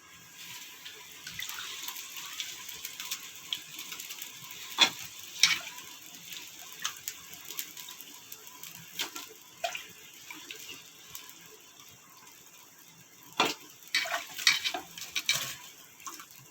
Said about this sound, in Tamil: கறி போட போகிறேன்.